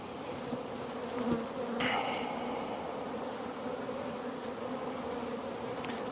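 Honey bees hum steadily at an open hive during a colony split for swarm control, a dense continuous buzz with a brief louder swell near the middle, close and with no talking.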